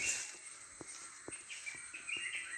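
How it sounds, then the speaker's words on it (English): Faint bird chirps and tweets scattered over a quiet outdoor background on a Kerala farm, a few soft clicks between the calls. "the chirping of birds"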